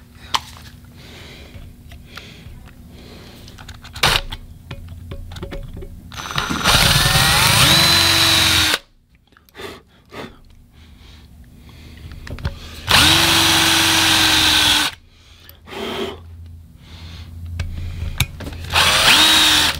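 A power drill bores into a cracked cylinder head during a repair, running in several loud sustained bursts of a few seconds each, separated by quieter shop sounds and brief clicks.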